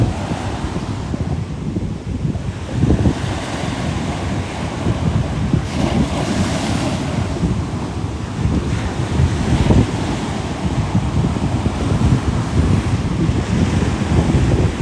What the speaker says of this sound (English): I hope the wind isn't too bad.